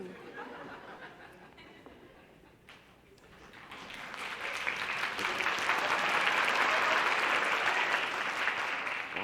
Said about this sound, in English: Why are you applauding?